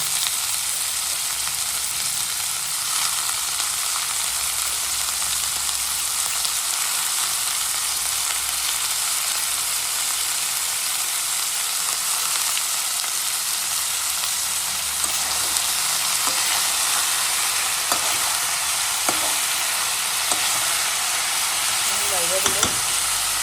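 Onions and mixed vegetables frying for bhaji in a pan, a constant dense sizzle and hiss throughout with occasional faint stirring clinks near the end.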